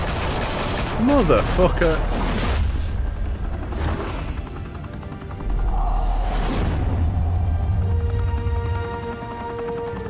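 Gunfire erupts in a Batman: The Telltale Series shootout, with sharp bursts and booms scattered across the scene, mixed with game music and a voice talking and shouting over the noise.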